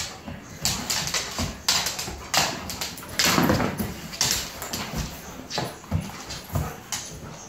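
Dogs whimper and yip indoors in a house, giving a string of short, faint, rhythmic cries and scuffles at close range with no talk.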